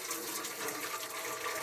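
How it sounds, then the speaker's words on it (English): Cedar tea is poured slowly from a pot into a strainer, a steady, even splashing and trickling of liquid with no break. "we're just going to slowly pour this into the strainer"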